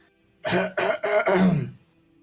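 A voice imitating coughing: four quick, rough hacking bursts in a row, close up, with no other talk.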